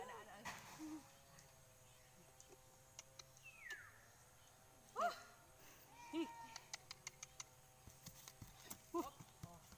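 Hooves clop sporadically on hard ground, with occasional horse snorts and faint voices in a quiet outdoor setting.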